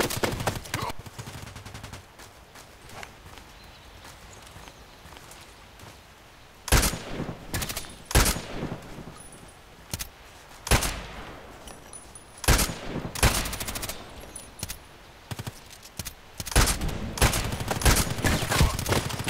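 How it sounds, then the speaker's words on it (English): Enemy gunfire in the shooter game Contract Wars, arriving as loud bursts and single shots from several directions, fairly close, with quieter stretches between volleys and no talking. "And they shoot from three positions,"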